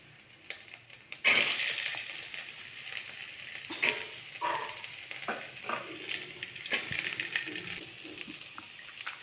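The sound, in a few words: curry leaves, dried chillies and onion frying in pan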